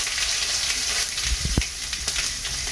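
Sesame seeds, chillies and curry leaves hit hot oil already holding asafoetida, giving a loud, dense, continuous sizzle with a brief sharper spatter in the middle.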